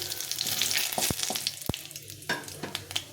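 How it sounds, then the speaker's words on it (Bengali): A dried red chilli, a bay leaf and cumin sizzle in hot oil for a tempering, a loud close crackle with sharp pops and spoon clinks scattered through it. "এখানে একটা শুকনো লঙ্কা, একটা তেজপাতা আর একটু জিরে ফোড়নে দিয়ে নিলাম।"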